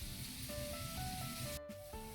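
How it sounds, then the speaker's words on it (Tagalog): A pot of salmon sinigang with miso boils on the stove, giving a soft, continuous hiss and bubbling at low volume, with no talking over it. "tingnan natin kumukulo na"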